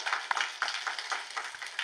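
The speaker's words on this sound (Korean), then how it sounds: "박수는 하나님께 영광 돌립니다." A church congregation claps together in a quick, steady rhythm of dense overlapping hand claps for a couple of seconds, no voices heard.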